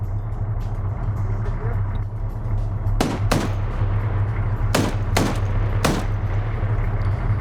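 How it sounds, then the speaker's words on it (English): .50 cal machine gun in a multiplayer PvP video game match, firing from range: a few short, sharp bursts of shots around the middle of the clip over a steady low engine-like rumble and background noise. "So you got the 50 cal firing from range here"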